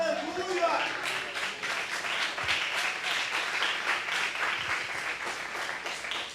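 A church congregation claps and applauds in a steady, dense patter throughout, with a preacher's voice speaking briefly over the start.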